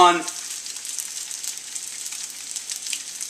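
Eggs hit a very hot pan for bacon garlic fried rice: a brief thud at the start, then a bright, steady hiss and crackle that carries on alone.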